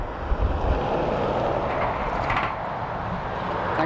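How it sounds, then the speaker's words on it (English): Strong gusting wind buffets the microphone at Dublin Airport, a loud, roaring rumble that swells and eases throughout with no talking. "Welcome to a very windy Dublin Airport."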